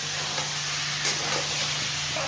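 Potatoes frying in a pan for a fish-head curry with spinach, giving a steady, close sizzling hiss with a faint low hum beneath and no talking.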